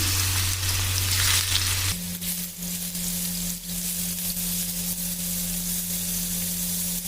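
Fish pieces are laid in a pan of very hot oil on full flame for a steam-roasted foil fish, and a loud, dense sizzle fills the whole stretch, with a steady hum running beneath the frying.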